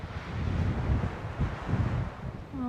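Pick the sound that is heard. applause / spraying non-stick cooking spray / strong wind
strong wind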